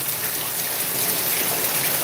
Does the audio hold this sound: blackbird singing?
no